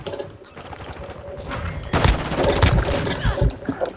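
Call of Duty: Modern Warfare II multiplayer gunfire, with overlapping shots, booms and heavy thuds in a chaotic close-range firefight that peaks midway and stays busy and loud to the end.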